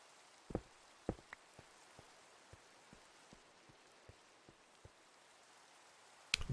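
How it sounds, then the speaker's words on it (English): Rain falls with a faint, steady hiss, punctuated by scattered single drops tapping at irregular intervals, and a louder clatter comes at the very end. "Rain again."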